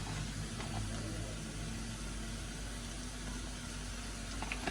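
A quiet, steady hiss of oil heating in a pan, with a faint low hum underneath and no other sounds.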